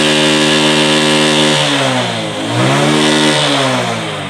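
A Bajaj CT 100 motorcycle engine with a faulty sound, blowing white smoke from the silencer, runs loud and close, idling rough then revving up and down twice in smooth swells, with no talk over it.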